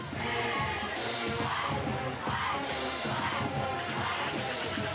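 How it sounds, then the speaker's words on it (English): High school football crowd at a Friday night Pleasant Grove Hawks versus Gilmer Buckeyes game, with the Hawk band and cheerleaders rousing the stands; a steady, fairly distant roar of chanting and cheering with brassy band tones underneath. "You hear the Hawk band and the cheerleaders getting the crowd pumped up"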